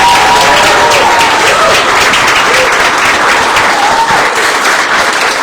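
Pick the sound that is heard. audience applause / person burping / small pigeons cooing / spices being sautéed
audience applause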